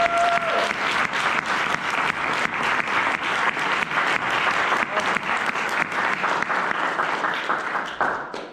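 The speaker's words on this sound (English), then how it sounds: "Let's give them a well-deserved round of applause" An audience at a club meeting gives sustained applause for the founding members, a dense even clapping from a roomful of people that carries on for several seconds before fading at the end.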